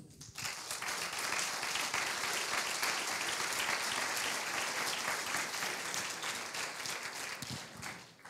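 Audience applauding the panelists at a round table on climate change and nature's services, a steady, even crowd clapping heard from some distance, swelling quickly, holding for several seconds and tapering off.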